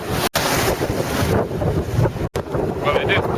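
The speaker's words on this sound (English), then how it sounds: "Being tracked by HTS now, the winner of the London Monte Carlo Powerboat race." A powerboat racing across the Solent, a roaring rush of wind and spray against the microphone with engine and hull noise, loud and close, briefly cutting out twice.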